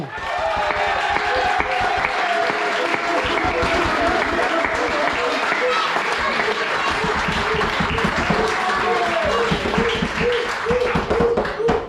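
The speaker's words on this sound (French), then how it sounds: "Alors applaudissements pour l'ami Christian Giraudon." Applause from the crowd at a sports club's 60th anniversary celebration in Merle-Leignec, France, sustained dense clapping with voices mixed in throughout.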